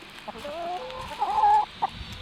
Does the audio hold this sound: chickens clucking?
yes